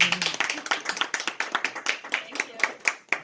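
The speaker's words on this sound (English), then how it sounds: "Round of applause." A small group claps in a steady, fairly quick round of applause for a software testing project presentation in a class setting, the sharp claps close and even, lasting a few seconds.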